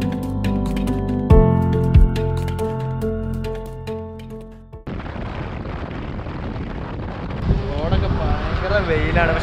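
Wind gusts over a rider on an open road in Goa. A few seconds of tonal sound come first, then steady broadband wind buffeting takes over and continues to the end.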